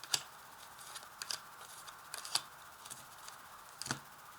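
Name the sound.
tarot cards being drawn and laid out for a reading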